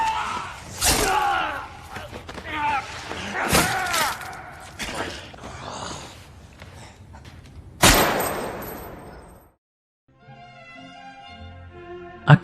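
A single loud gunshot blast rings out in an action film's climactic fight between Tyler and Zurab, a Georgian crime boss, after stretches of talk and impacts, then fades into a tonal musical passage.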